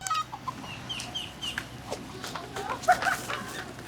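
Chicken clucking sound effect, a few short scattered bird calls over a low steady background hum, moderately loud and without talk.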